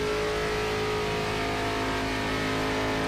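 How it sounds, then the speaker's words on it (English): A race car engine at Talladega, running at about 170 mph around 6,300 to 6,500 RPM and sounding unhealthy, holds a steady, loud drone with no break. "the engine does not sound healthy"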